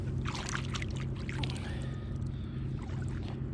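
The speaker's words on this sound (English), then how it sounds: "Let me rinse this sand off." Water pours and splashes continuously over a crude unifacial stone workpiece as sand is rinsed off, close and steady for a few seconds.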